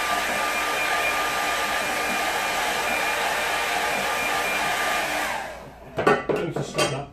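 A hair dryer blows a loud, steady rush of air over wet watercolour paint for about five seconds, then switches off, leaving a few light clatters.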